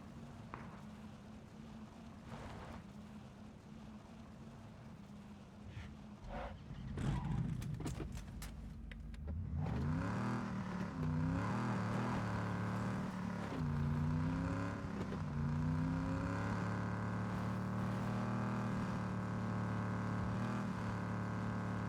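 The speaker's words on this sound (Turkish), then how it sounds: "araba sesi" A car engine in the video game PUBG idles with a low hum, then revs up and down repeatedly in rising and falling sweeps, loud and sustained.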